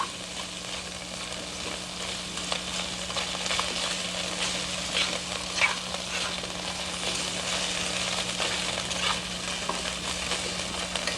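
Plain white rice with mixed vegetables being stirred in a frying pan, a soft continuous sizzle with light scraping of the utensil, fairly quiet and steady throughout.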